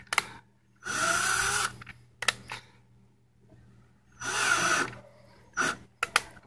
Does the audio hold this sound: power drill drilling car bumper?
yes